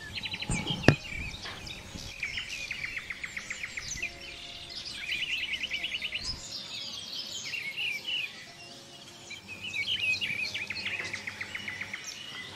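Several birds sing and chirp among leaves and branches, bright trilling phrases and quick repeated tweets coming in bursts over a quiet outdoor background, moderately distant and soft.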